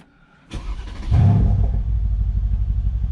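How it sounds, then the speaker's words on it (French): A click, then a Mercedes C63 S AMG 510 hp engine cranks and fires up with a deep burst, settling into a loud, throaty rumbling idle close by. "donc je vais démarrer la voiture"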